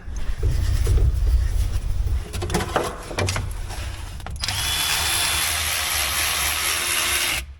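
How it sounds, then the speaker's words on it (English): A power tool removing a bolt on a small offroad wrecker whirs and rattles loudly up close in short bursts, then gives way to a steady high-pitched mechanical hiss. "And of course, Shannon gets me the power tool for the shortest bolt."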